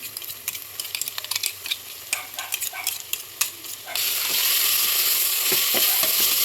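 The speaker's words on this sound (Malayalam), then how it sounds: "ഇനി നമ്മൾ നേരത്തെ ചതച്ച് വെച്ച പച്ചമുളക്, ഇഞ്ചി, വെളുത്തുള്ളി അത് നമുക്ക് ഇതിലോട്ട് മിക്സ് ചെയ്ത് നന്നായിട്ട് ഇളക്കാം" Crushed green chili, ginger and garlic are stirred in a hot frying pan, with scraping and tapping strokes at first, then a loud, steady sizzle swelling up for the last few seconds.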